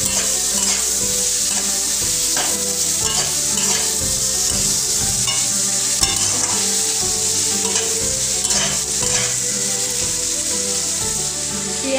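Onion, garlic and tomato fry for mutton kosha, stirred steadily in the pan. A loud, continuous sizzle runs under repeated rhythmic scraping strokes, close-up, with no talking.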